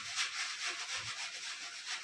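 Pearl millet seeds mixed by hand with PSB biofertilizer liquid, making a steady, close, soft rustling and rubbing hiss with slight swells, heard alone.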